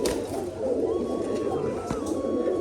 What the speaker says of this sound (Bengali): এই দেখুন ডিম নিয়ে বসে আছে এই যে নর পায়রাটা